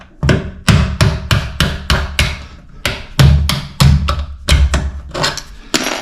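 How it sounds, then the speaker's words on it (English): A hammer taps a small bolt against an interior door hinge bolt to drive it out, more than a dozen sharp, close metal strikes in an uneven rhythm with brief pauses between them. "I'm just going to use this little bolt and a hammer to tap the hinge bolt out."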